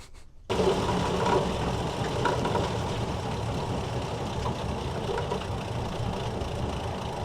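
An old tractor runs while chopping silage, its engine kicking in abruptly and then holding a loud, steady mechanical drone with a rattling, churning texture throughout.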